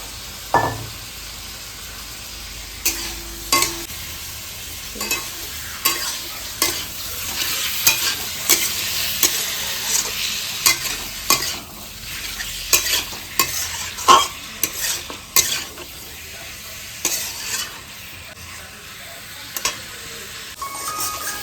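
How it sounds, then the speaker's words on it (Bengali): Meat being stirred and fried in a kadai at home, with a steady sizzle throughout and repeated scraping, clattering stirring strokes in an irregular rhythm, close and moderately loud, with no talk. "মাংসগুলো দেওয়া হচ্ছে কড়াইতে"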